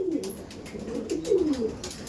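Kaldom pigeons in a loft coo in low, rolling phrases, several birds overlapping at close range with a steady murmur of calls throughout.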